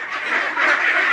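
Khaki Campbell ducks on a farm quack in a continuous nasal chorus, moderately loud and close, with no talking.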